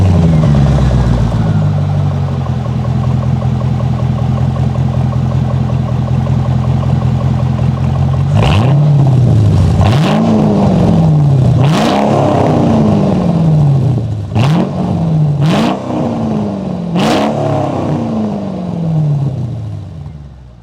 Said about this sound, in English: Hope you enjoyed that little exhaust clip.